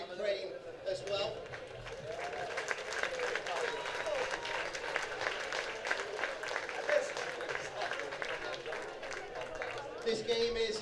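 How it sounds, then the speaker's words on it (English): A crowd at a European U19 Rugby League Championship final applauds the Ukraine team, with steady, dense clapping over a long stretch and a voice speaking over it, some shouts rising near the end. "round of applause for your very worthy opponents, Ukraine, as well."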